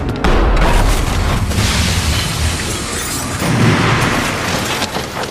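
A grenade blast inside a room in the film Munich: a loud, sustained booming roar with rumbling low-end debris and noise that swells again midway, filling the whole stretch with no talk.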